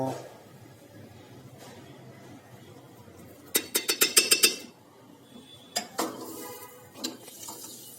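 Several quick metallic clinks and scrapes, like a spoon against a pot, cluster in a short burst as spice tempering is added to dal-rice handvo batter, followed by a few scattered knocks over low kitchen background noise.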